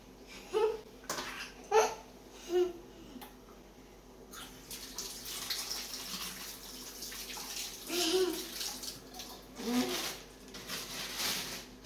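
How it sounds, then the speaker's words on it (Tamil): Salted fish is rinsed one by one under running tap water, which gives a steady splashing flow. Close handling clatters sit on top of it, and voices babble and laugh faintly in the background. "இந்த மீனை வாஷ் பண்ணி எடுத்துக்கலாம்."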